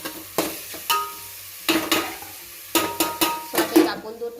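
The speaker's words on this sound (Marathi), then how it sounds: "आनी सुंगटां मातशी भितर बरी करून फ्राय करपाची." Prawns frying with onions in a pan for a Goa-style prawn curry, with sharp spoon scrapes and clanks against the pan in irregular bursts over a soft steady sizzle, close and clear.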